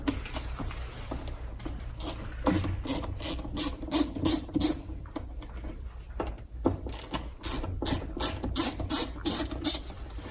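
A T20 Torx driver clicks in quick ratcheting bursts while backing out the screws of the air intake temperature sensor on a third-generation Cummins, two runs of close, crisp clicks separated by a short pause, with no talking.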